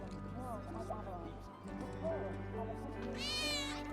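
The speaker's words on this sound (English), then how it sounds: "That was definitely a cat." A cat meows repeatedly in the Final Fantasy VII Remake video game, with several rising and falling cries heard over in-game character voices and ambient sound.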